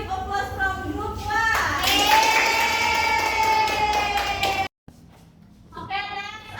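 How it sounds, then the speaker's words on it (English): Students in an English-teaching classroom applaud a presenting group, a burst of clapping with children's voices and shouts, then a brief drop to quiet before voices return. "now give applause from group 1"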